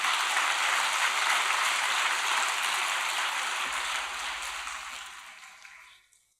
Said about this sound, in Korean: 박수 한번 올려드립시다.